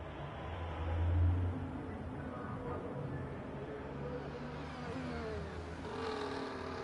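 Race car engine accelerating in a racing video game set at Abu Dhabi, a steady mid-level engine drone with rising whine toward the end, a faint voice briefly underneath.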